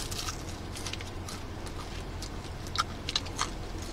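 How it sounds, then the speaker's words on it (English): Someone bites and chews a chicken wing close up, with wet crunchy mastication noises and a few sharp crackly bites standing out toward the end over a low background hum. "You just chew the skin off. Have you missed him chewing with his mouth open?"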